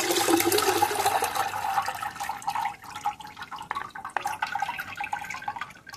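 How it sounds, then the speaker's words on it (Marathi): Water and wheat starch strained into a large pot splash and pour loudly at first, then ease into uneven trickles and drips, close by and with no voices. "एका मोठ्या पातेल्यामध्ये संपूर्ण पाणी मी गाळून घेते आणि संपूर्ण चीक मी गाळून घेते."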